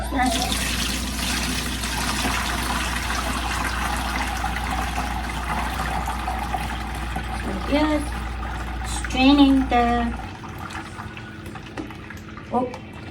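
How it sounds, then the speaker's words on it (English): Soybean juice is strained for homemade tofu, heard as a steady pouring, trickling flow of liquid with a low hum underneath, stopping after about ten seconds, with voices speaking now and then. "Straining the soybean juice."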